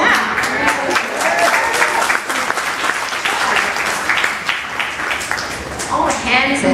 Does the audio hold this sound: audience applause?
yes